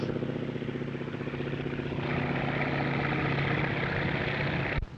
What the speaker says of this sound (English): Another outstanding feature of the otter is its ability to fly at very low speeds. Right now, it's going by at a mere 55 miles an hour.